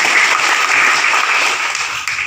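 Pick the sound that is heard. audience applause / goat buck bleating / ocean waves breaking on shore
audience applause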